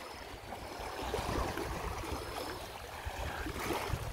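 Sea waves wash steadily along the Yeosu seaside shore, a faint continuous hiss and rush of surf mixed with wind, with no talking.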